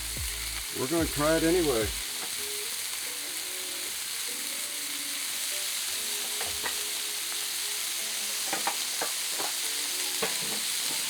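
Bacon cooks over direct heat with no offset smoker, giving a steady, even sizzle with a few light clicks. Someone speaks briefly at the start.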